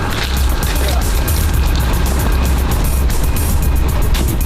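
A car drives past at a border area in eastern Ukraine, a steady, loud broadband engine and road roar with strong low rumble holding throughout, no clear talk over it.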